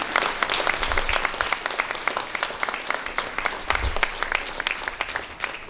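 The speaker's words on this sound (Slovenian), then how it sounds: "en velik aplavz" A crowd at a local community show in Dobova, Slovenia, breaks into sustained applause, many hands clapping in a full, continuous roar with a few sharper individual claps standing out.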